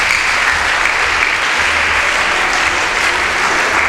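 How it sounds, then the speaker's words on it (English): Debate contestants receive loud, sustained audience applause, a thick, unbroken roar of clapping heard close up with no voices over it. "A round of applause for our contestants."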